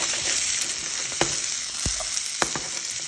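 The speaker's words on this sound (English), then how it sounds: "So I'm gonna lightly saute them off a little bit there." Leftover rib chips sauté in a pan with a loud, constant sizzle up close, broken by a few sharp clinks and knocks of a utensil against the pan, with no speech.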